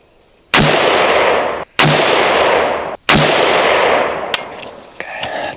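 Three loud, sharp rifle shots from an AR-15 with an 11.5-inch barrel firing 62-grain rounds at a 100-yard range, evenly spaced about a second and a quarter apart, each with a long ringing decay, followed by a faint metallic clink.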